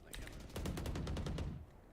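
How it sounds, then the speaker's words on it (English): Gunfire in the tactical shooter Valorant: several quick bursts of shots in pairs, fairly close, over low game background noise, lasting about a second and a half. "He heard at least 3 pairs of gunshots there."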